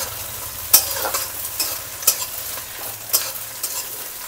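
Ground tomato stirred into a hot frying pan for Bangladeshi-style cooking, with soft sizzling under a few sharp scrapes of the spoon against the pan at irregular intervals.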